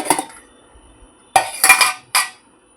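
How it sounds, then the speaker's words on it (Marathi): A knife tested in a cake steamed in an idli pot: a few sharp, close metallic clinks and scrapes in separate bursts, with quiet pauses between them and no talking. "आता याच्यामध्ये झाकण काढलंय, तर आता हे मी चाकू घेते आणि चाकूनी झालंय की नाही बघते."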